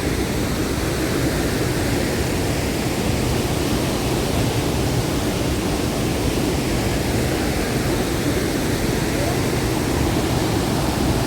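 Jonha Falls waterfall with a strong rushing current, a loud, dense, unbroken roar of falling and churning water that fills the whole stretch without pause.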